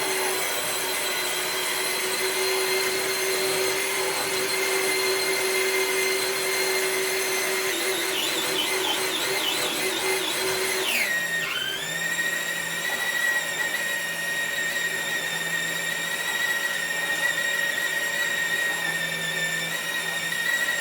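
Traxxas Bronco RC truck pulling a weighted sled loaded with bricks on concrete, a steady high electric motor whine with gear hum throughout, its pitch sweeping sharply near the middle, close and continuous without speech.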